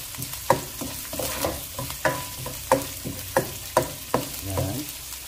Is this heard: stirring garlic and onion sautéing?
yes